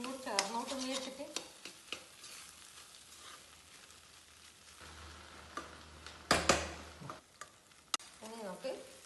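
Onions frying in oil for cauliflower porotta, with a soft sizzle under intermittent scraping and stirring clinks of a utensil in the pan, fairly quiet and close.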